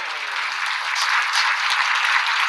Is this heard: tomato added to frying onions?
no